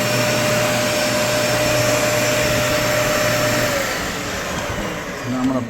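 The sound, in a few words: Dyson vacuum cleaner running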